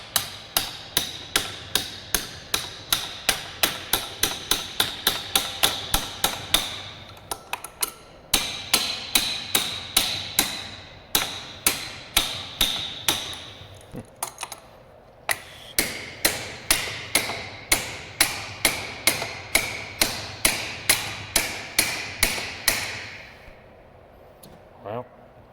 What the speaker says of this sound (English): Not really the right way to use a wrench.